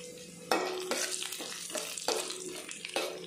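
Urad dal and chana dal frying in hot oil in a pan, a crackling sizzle broken by several sharp stirring scrapes and knocks, close and moderately loud, no talking.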